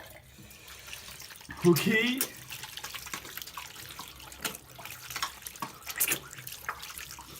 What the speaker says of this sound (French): Maintenant, je me rince le visage.